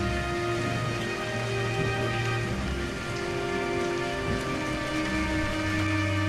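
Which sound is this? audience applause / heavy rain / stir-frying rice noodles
heavy rain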